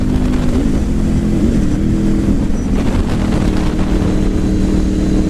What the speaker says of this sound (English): I love the sound of it too. It sounds like a V8.